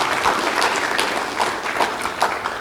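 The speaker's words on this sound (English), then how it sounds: "can we just give another round of applause to all the presenters for this session" Sustained applause from a university session audience at the University of the South Pacific, dense steady clapping with no talk over it.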